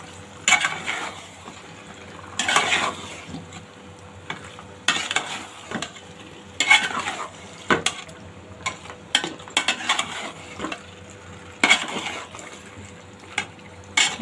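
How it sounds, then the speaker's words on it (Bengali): Beef liver and potatoes being stirred in a cooking pan, with repeated scraping and clattering strokes in irregular bursts over a faint steady sizzle, close up and with no talking. "ছোটো ছোটো করে কেটে রেখেছি আর কলিজাটা ভাত দিয়ে সেটা দিয়ে দিব। ভালোভাবে নেড়ে দিই।"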